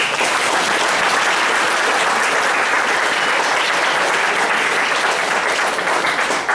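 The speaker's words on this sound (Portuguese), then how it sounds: "eu gostaria de aplaudir para a aprovação" Applause from an assembly at a young Buddhists' congress in Londrina, steady dense clapping from many hands filling the whole stretch without pause, loud and close.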